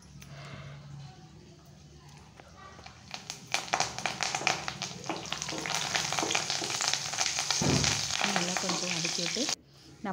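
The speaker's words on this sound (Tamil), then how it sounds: "இது நல்லா பொரியட்டும், எண்ணெயில் நல்லா காயட்டும்" Chopped coriander leaves fry in hot oil for a Chettinad-style cauliflower gravy, giving a steady, close sizzle that grows louder and denser midway, with tapping stirs throughout.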